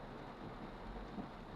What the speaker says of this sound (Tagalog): So malakas ulan